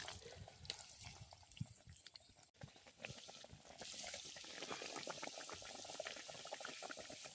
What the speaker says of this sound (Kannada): ನೋಡಿ ಫ್ರೈ ಆಗತೈತಿ ಮಸ್ತಾಗೆ